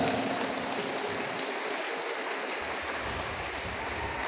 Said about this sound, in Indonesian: Tepuk tangan dulu untuk orang Nunukan.